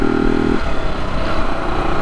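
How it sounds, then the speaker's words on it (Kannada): A motorcycle climbs the Charmadi Ghat road in cold weather, its engine giving a loud, close, steady drone with wind rush for the whole stretch and no talking. "ಬೈಕ್ ರೈಡ್ ಮಾಡಲಿಕ್ಕೆ ತುಂಬ ಖುಷಿ ಆಗ್ತಾಯಿದೆ."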